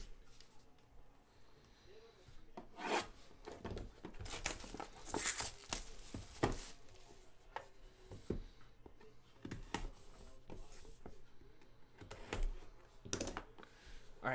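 Someone typing on a computer keyboard during a football card box break. Scattered sharp clicks and taps come in irregular bursts, mixed with occasional crinkling, all fairly faint and close.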